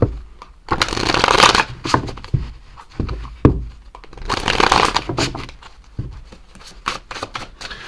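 Tarot message card deck being shuffled by hand, close and crisp, in repeated bursts of riffling and slapping separated by brief pauses and soft thumps.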